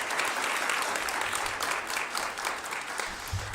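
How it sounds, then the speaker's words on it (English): Steady, dense audience applause at a credit union gift announcement, a continuous wash of many hands clapping at moderate distance, sustained evenly for a few seconds. "So can we please have another round of applause?"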